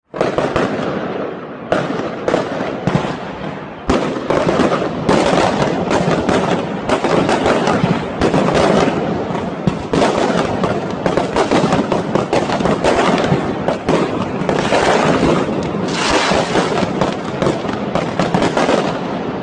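Fireworks set off by PSV Eindhoven football fans outside the Manchester United team hotel the night before a Champions League match: a dense, continuous barrage of crackling bursts and bangs, loud and relentless for the whole stretch.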